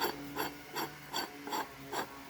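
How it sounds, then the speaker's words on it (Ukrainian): A homemade wheel hub on a GAZ-66 truck is turned by hand, producing a rhythmic ratcheting click about every 0.4 seconds, close and moderately loud with no talking. "Ну от Приблизно так працює хаб"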